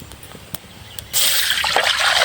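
Water is poured into a pan of roasted ingredients for a herbal sirukanpeelai and nerunji soup. It starts suddenly after a quiet moment and becomes a steady, close, splashing pour.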